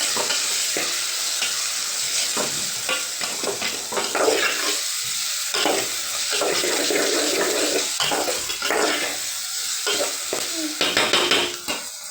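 Brinjal being rinsed by hand in water at home before cooking, with continuous splashing and sloshing of water close by, scattered clatters of the vegetables knocking about, and no talk.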